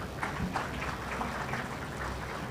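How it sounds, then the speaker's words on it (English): An audience at a CEO networking event in a hall gives a steady round of applause, dense and continuous clapping from many hands, with no speech over it. "And big round of applause for them, please."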